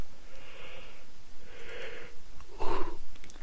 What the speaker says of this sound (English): Sorry, yawn break.